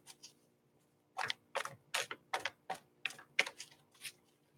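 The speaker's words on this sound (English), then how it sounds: "I'm still shuffling, Zeri, waiting for that card to come in." Quiet sequence of quick papery flicks and soft taps, about a dozen short bursts in an uneven rhythm, close by.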